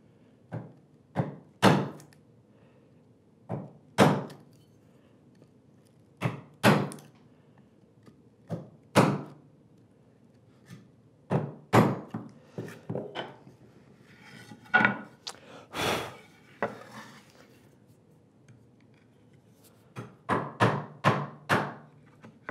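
Sharp wooden thunks of a chisel chopping through the wood of a workbench drawer, a couple of dozen irregular mallet-driven strikes, some in quick pairs, close and fairly loud over a quiet workshop.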